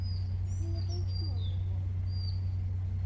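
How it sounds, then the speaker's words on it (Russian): Small birds sing outdoors in a city park, with several short high chirps and tweets scattered across a few seconds over a steady low hum of traffic. "Здесь так птицы поют,"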